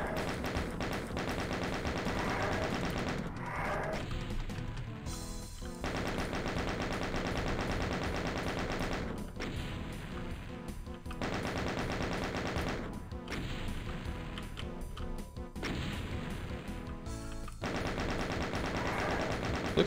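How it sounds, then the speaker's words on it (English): Rapid, sustained chaingun fire in the video game DOOM: The Plutonia Experiment, a dense stream of shots running through most of the stretch with brief pauses between bursts, loud and close over game music. "Maybe that's where the chain gun's weakness is."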